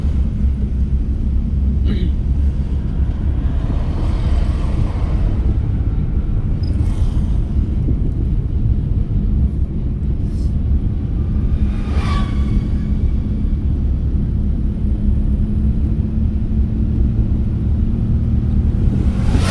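A car in motion during a driving lesson, heard from inside the cabin as a steady low engine and road rumble that runs throughout.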